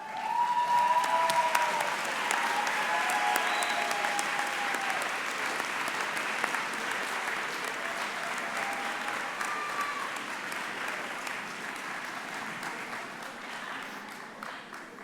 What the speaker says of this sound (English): give your parents, grandparents, brothers and sisters, aunts and uncles, spouses, children, and other loved ones a big round of applause